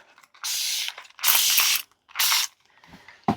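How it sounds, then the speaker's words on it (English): Spray bottle spritzing alcohol into a mold, three close, loud bursts of hissing spray, each about half a second long, separated by short pauses, then a brief clunk at the end. "Let's just spritz of alcohol in each one of these."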